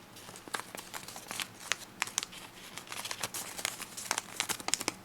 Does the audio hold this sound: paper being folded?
yes